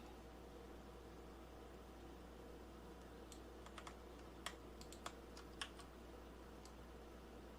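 Computer keyboard keys are tapped for Blender modeling shortcuts, with a short cluster of light clicks midway over a steady low hum in a quiet room.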